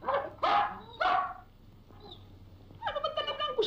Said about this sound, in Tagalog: Eh, aso ko nga pala.